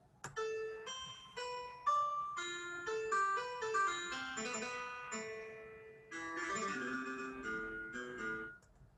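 A thin, synthetic guitar-like melody played back by MuseScore 3 notation software, a sequence of plucked notes, slow at first and then quicker runs, quiet and mechanical in tone.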